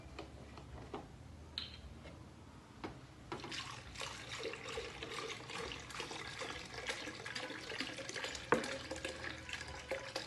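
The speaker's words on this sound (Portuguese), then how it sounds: "agora, vou virar ele aqui nessa jarra maior, pra acrescentar mais leite nele" Açaí mixture poured from a container into a larger jug with milk added, a steady liquid splash and trickle running continuously at moderate level, with a few clinks of the jug.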